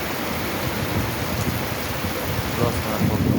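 A heavy summer downpour in Saint Petersburg hisses steadily and loudly, a dense, continuous wash of rain drumming on surfaces close by, with no pauses across the whole stretch.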